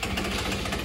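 Small 77cc Metrakit engine on a Sherco supermoto running steadily just after start-up, a faint, even mid-pitched putter with a slight knock, heard alone for a brief moment.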